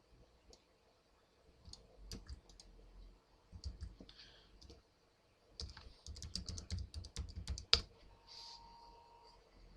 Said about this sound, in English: if I type the IP address along the port